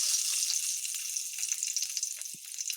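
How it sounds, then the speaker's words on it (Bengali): Green chillies, bay leaf and cardamom sizzle in hot oil with a steady, bright crackle that holds throughout, close and fairly loud, with a brief low thump near the end. "তেল গরম হয়ে গেছে এখানে আমি দুটো কাঁচা লঙ্কা ফোড়ন দেব তেজপাতা ফোড়ন দেব আর এলাচ"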